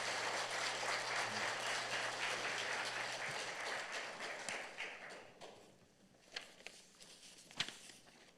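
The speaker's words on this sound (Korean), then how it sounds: "여러분 큰 박수로 환영해 주시고" A church congregation at a night prayer meeting claps to welcome the pastor, a dense burst of applause that fades after a few seconds into scattered footsteps, taps and rustling in a quiet room.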